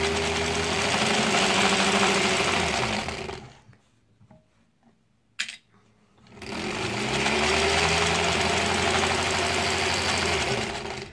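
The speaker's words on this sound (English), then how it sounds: "I feel like this machine could sew through anything though. I just love the sound it makes." Sewing machine running steadily during quilt piecing, loud and continuous, then stopping for about two seconds with a brief clack before starting up again and humming on to the end.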